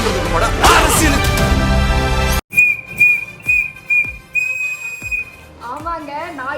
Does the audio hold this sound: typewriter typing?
no